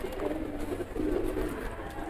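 Soft, low pigeon cooing repeats in gentle rolling phrases, fairly close, with faint background ambience and no talking.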